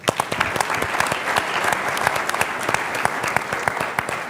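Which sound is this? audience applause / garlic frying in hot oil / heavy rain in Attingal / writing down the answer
audience applause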